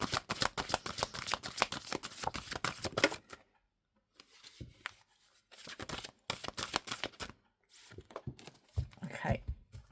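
Tarot cards being shuffled in quick riffling bursts, close up, with short pauses between rounds and a soft voice faintly underneath.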